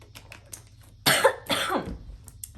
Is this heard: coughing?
yes